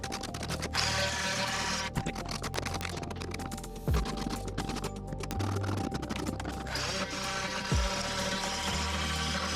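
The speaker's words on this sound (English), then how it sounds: "I can keep scraping this down a bit." A blade scraping old yellowed glue off wooden stairs during a glue-down hardwood floor install, heard as a steady stream of close, gritty scratching strokes with brief pauses between passes.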